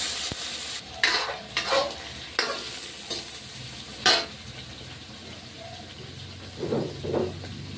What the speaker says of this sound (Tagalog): saka ko igigisa yung bawang sibuyas na saka luya